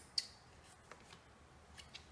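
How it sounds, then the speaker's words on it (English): Scissors snip a small bit of leftover paper while a pocket envelope is made, giving a sharp near click followed by a few faint, scattered snips in a quiet room. "I'm just gonna cut it off a little with my scissors"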